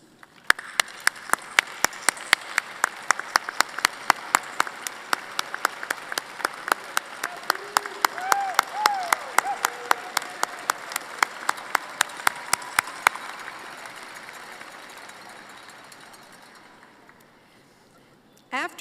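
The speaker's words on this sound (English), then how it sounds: "Would family members please stand for applause and congratulations?" Sparse, steady applause at a college convocation for students' families, with individual sharp claps ringing out over a crowd. It runs for about thirteen seconds, then fades to quiet murmuring.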